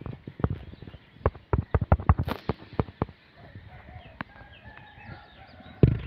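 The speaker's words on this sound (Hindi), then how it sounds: "तो मुर्गे भी अजाने दे रही हैं" Roosters crowing faintly in the distance around a rural hillside home on a rainy, cloudy morning, heard among sharp clicking and tapping knocks, with no talk.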